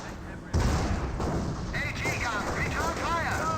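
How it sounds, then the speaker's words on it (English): Anti-tank gun firing at a Hetzer tank destroyer in the World War II strategy game Company of Heroes, a sharp loud blast with a rumbling battle din after it, under steady talk and whistling shell sounds. "AT gun does roll a bounce there onto the Hetzer as the Greyhound start to make its advance"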